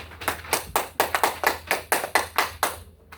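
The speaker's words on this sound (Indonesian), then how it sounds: "Berikan aplaus untuk kelompok 1" Group applause in a classroom: about a dozen quick, close bursts of hand clapping in an irregular rhythm, fading at the end, with no voices over it.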